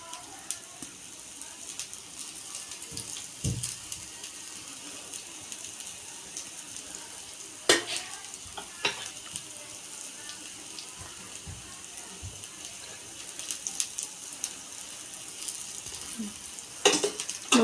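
Rava appam frying in oil in an appe pan, a steady soft sizzle throughout with occasional small clicks and pops, fairly quiet and even.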